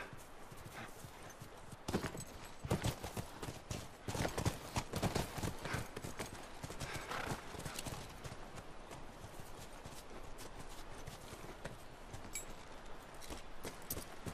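Horses in The Last of Us video game clopping steadily along with hooves in a continuous walking rhythm, an occasional faint whinny rising over the steps, with no talking.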